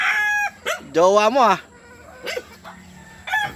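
A backyard rooster crows loudly and close by in a rising, wavering call, with dogs barking nearby and people talking in Filipino before and after.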